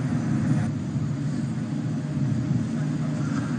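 A Kawasaki C-2 military transport aircraft flying a display at the Dubai Airshow 2021, a steady, loud, broadband jet roar that holds level throughout without breaks.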